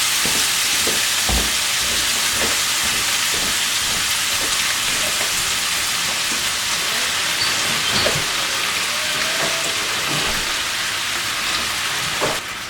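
Frozen shrimp frying in a pan, a loud steady sizzle that holds without a break, with occasional pops and scrapes.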